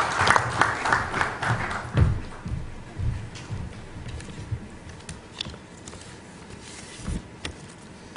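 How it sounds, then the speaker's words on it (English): Applause for the Principal Secretary at a government IT policy event in Goa, a burst of clapping in the first two seconds that thins into scattered claps and room noise. "Please, a round of applause for our Principal Secretary."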